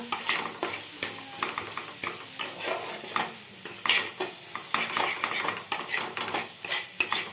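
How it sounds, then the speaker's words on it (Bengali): Spice masala fries in a pan while a utensil stirs and scrapes against the metal, busy irregular clatter over a continuous sizzle, close and fairly loud. "এই মশলাটা খুব ভালোভাবে ভাজতে হবে।"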